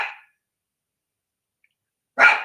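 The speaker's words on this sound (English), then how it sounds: "barking in the dark like I got a visitor or something" A pet dog named Bailey barking in the dark indoors: two short, sharp barks, one at the start and one near the end, separated by a long silence, fairly close and alone with no talk.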